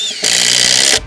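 A cordless drill fitted with a 3/8 socket drives a screw into an arbor column base, giving one loud, close, high whirring burst of about three quarters of a second that starts and stops abruptly.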